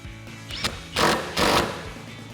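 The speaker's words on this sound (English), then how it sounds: "Put our nut on and tighten it back down with our 15mm socket." A 15mm socket on a ratchet tightens a nut on a Mustang shock absorber during a lowering spring install, giving two loud bursts of rapid ratcheting clicks close by.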